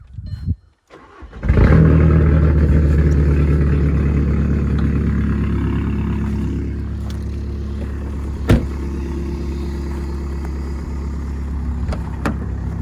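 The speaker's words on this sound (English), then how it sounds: "Let's get that crispy cold start." A 2014 Volkswagen Passat TDI diesel cold-starts after a brief crank, then settles into a loud, steady diesel idle with clattery low rumble, dropping slightly as revs ease, with a couple of sharp clicks near the end.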